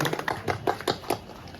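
Scattered hand claps from a small group at an Onam celebration trophy award, about half a dozen sharp taps over a second and a half, close and fairly quiet with no talk.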